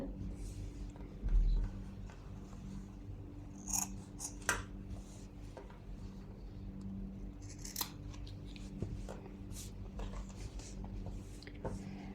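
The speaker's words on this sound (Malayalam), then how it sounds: "ഇവിടെ ലാസ്റ്റ് കട്ട് ചെയ്തു ആം ഹോൾ കട്ട് ചെയ്തു" Scissors cutting through fabric to shape the armhole of a petticoat, a few sharp snips and crisp blade closures scattered over a quiet room with a low steady background hum.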